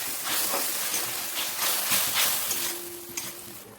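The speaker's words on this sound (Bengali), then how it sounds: "যাতে মশলাটা ভালো করে ভাজা হয়" Spice paste of dried chilli and ginger with a little water sizzles and hisses steadily while frying in a pan for Bengali kata chochori, with a few soft crackles and pops.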